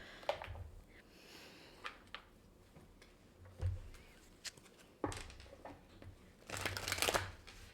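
Oracle cards from a Delft Sphinx deck and a colours deck are shuffled and drawn in soft, scattered bursts of riffling and sliding, quiet and close, with a longer flurry near the end.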